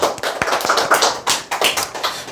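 An audience breaks into applause, a short burst of close, uneven hand claps lasting a couple of seconds.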